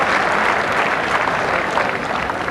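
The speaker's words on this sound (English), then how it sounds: "Crowd, good applause there." Spectators at the 1988 Ladies Waterloo bowls championship applaud a winning shot that picks up the jack, a steady, even patter of clapping from a moderately distant crowd lasting the whole stretch.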